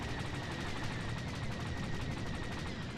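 Turret fire in SWTOR Galactic Starfighter, a steady stream of quick repeated shots mixed with a constant engine-like hum, fairly faint and even throughout, with no voices.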